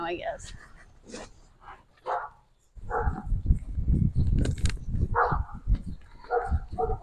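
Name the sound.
dog barking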